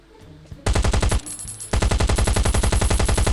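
Rapid automatic gunfire in the survival game Last Island of Survival: a short burst, a brief pause, then a long sustained stream of loud, evenly spaced shots up close.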